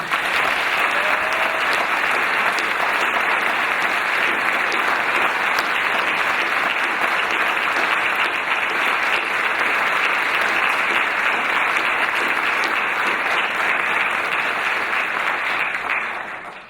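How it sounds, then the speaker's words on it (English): Steady, full applause from a large audience at a high school community viewing in Grafton, sustained loudly and evenly for about sixteen seconds before tapering at the end. "Big round of applause, please."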